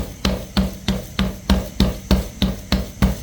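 Maize roti dough is patted round by hand on a plastic sheet, about ten evenly spaced soft thumps in a steady rhythm, close and clear with no talk.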